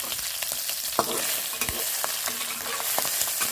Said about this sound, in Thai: ผัดหัวกุ้งกันเถอะมันเหลืองโตนะคะ